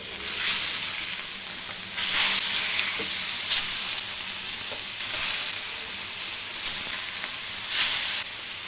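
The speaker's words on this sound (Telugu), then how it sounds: "ఇప్పుడు రెండోసారి వేసిన చేప ముక్కలు కూడా ఒక సైడ్ ఫ్రై అయిపోయాయి రెండో సైడ్కి అయితే తిప్పేద్దాం" Fish pieces fry in oil with a steady, bright sizzle that swells in periodic surges as the pieces are turned, no voices.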